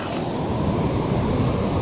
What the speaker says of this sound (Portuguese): Essa é a cachoeira.